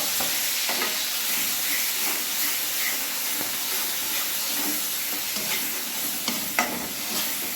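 Ginger, onion and garlic paste fries in a pan with a steady close sizzle and hiss, plus the occasional scrape and tap of stirring; no one speaks.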